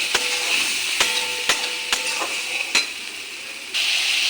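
Masala with turmeric and salt fries in hot oil for chili fish, a loud, continuous sizzle broken by several sharp spatula taps and scrapes against the pan.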